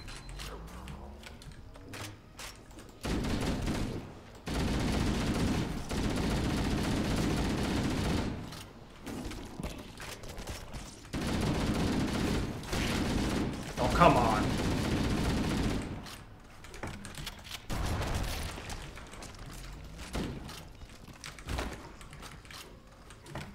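Shotgun blasts in Halo: Combat Evolved, heavy booming reports separated by short pauses with mechanical pump and reload clatter between them, loud bursts over a droning background with some talking.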